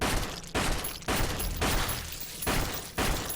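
Repeated gunshots ring out in a horror survival video game set in a police station, about six sharp broadband blasts spaced roughly half a second apart, each trailing into a short decay, loud and close with no talking.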